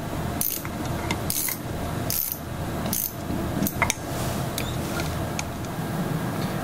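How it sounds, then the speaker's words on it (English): Four motor through bolts on a Whip Mix combination unit and vacuum power mixer are tightened with a 1/4-inch socket wrench, giving a series of sharp metallic clicks and ratcheting snaps at irregular intervals against steady background hum. "I'm securing the four motor through bolts with a 1/4-inch socket wrench."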